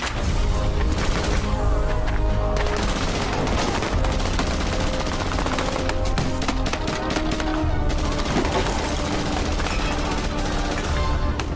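Gunfire fills an ambush scene in the Russian action series The Sniper 2, with dense bursts of shots and booms over a continuous loud soundtrack and no talking.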